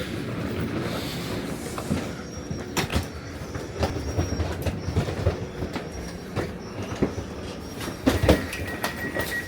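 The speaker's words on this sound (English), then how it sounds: "Okay, now let's jump on board this train." A German regional train rolls along with rhythmic clickety-clack from the wheels over rail joints, irregular knocks and occasional faint squeals, heard steadily throughout without speech.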